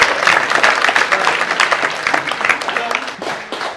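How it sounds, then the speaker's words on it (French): Enthusiastic audience applause at a live music concert, dense clapping from a large crowd that swells and then begins to taper near the end. "Je voudrais qu'on les applaudisse très fort."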